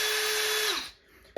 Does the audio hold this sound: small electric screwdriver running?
yes